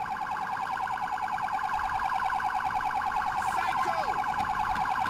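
Police siren in the GTA 4 video game, a steady electronic wail with a rapid warbling pulse that repeats continuously at a fairly loud, constant level, with no talk over it.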